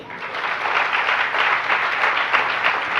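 Audience clapping during a Jain religious discourse, a steady dense wash of applause from many hands, moderately loud and continuous throughout with no talk over it.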